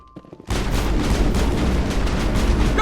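Firefight in Mass Effect opening abruptly into a loud, continuous barrage of gunfire and booming impacts, dense and close with no pause after a brief quiet moment at the start.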